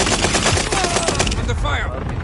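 Video game gunfire: rapid, sharp shots in a fast burst, loud and close, with a brief ringing tail near the end.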